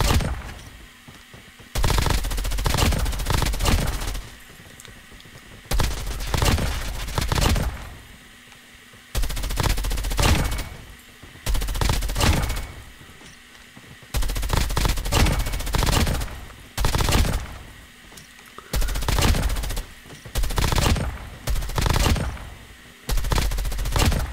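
Rapid automatic gunfire in Call of Duty Mobile, from a weapon with a high fire rate, coming in loud repeated bursts separated by short pauses.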